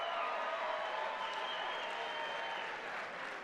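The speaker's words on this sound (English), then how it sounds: "let's give both of these ladies a big round of applause." A crowd at an MMA event applauds two female fighters after their bout, with steady, moderately distant clapping and cheering that fades slightly toward the end.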